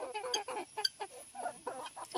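Backyard hens cluck in short, rhythmic bursts, several quick calls in a row, fairly close but quiet against a still background.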